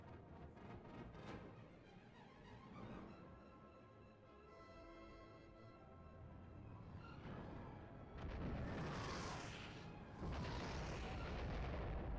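Deep booms and rumbling blasts of a space-station battle in the Star Wars Galaxies game intro, building under a swelling orchestral score and ending in heavy, loud explosive bursts.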